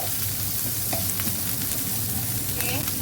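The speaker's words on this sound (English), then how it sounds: "Okay, so I'm gonna just fry the onions for a while." Onions frying in a pan for a potato masala side dish, giving a dense, continuous sizzle with stirring scrapes, close and loud, with no voices.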